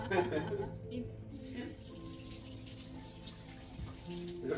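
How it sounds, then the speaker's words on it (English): A tap runs steadily as hands are washed in a kitchen sink, a soft, continuous splashing hiss heard fairly close with no talk over it. "I'm going to wash my hands again."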